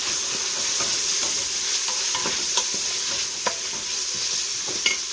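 Chicken sautéing in an Instant Pot, a steady sizzle and frying hiss with occasional stirring scrapes and small clinks, close and continuous without talk.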